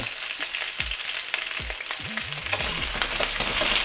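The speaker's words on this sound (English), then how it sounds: "we're going to take a touch of oil, the ribs, the ginger, the spring onion, put them in here" Pork ribs, ginger and spring onion fry in a touch of oil for sweet and sour ribs, giving a close, continuous sizzle. Dull knocks and a few squeaky scraping tones come from the pan being handled.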